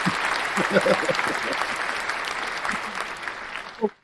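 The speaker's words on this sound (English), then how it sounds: "Hopefully the crowd applause drowned that out." A crowd applauds in a dense, steady wash of clapping that holds for several seconds and then cuts off abruptly. A voice is faintly audible beneath the clapping.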